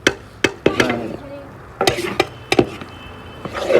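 Edible gum (gond) roasting and puffing in a pan while making winter panjiri, heard as sharp clatters and scrapes of a metal spatula against the pan at an irregular rhythm, close and fairly loud, over a faint sizzle.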